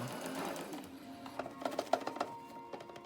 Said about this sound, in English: Perhaps a sewing machine is better.